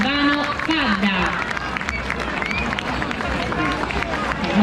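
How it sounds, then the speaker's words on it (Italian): An audience applauds at a Sardinian carnival dance in the town of Ulesu. Steady, dense clapping and crowd noise continue throughout, mixed with a nearby voice speaking. "Davvero un grande applauso."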